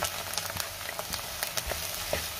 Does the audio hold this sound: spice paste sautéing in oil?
yes